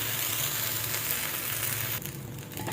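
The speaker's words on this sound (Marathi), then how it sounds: "तर आता डोसा एका साईडने छानपैकी भाजलेला आहे, दुसऱ्या साईडने पण आपण मस्त भाजून घेऊया." A dosa fries on a hot griddle as it crisps on its second side, sending up a steady, close hiss of sizzling oil. Faint crackles run through the sizzle, which dips slightly near the end, with no voices.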